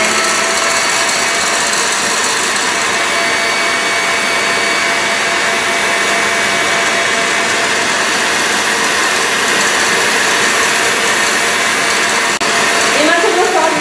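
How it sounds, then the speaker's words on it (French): An electric mixer runs at top speed in a bowl of whipped egg whites as syrup is poured in, a loud, steady motor whine that holds constant throughout, close up, with a brief rattle near the end. "je vais verser le sirop directement à l'intérieur tout en continuant de mélanger à vitesse maxi"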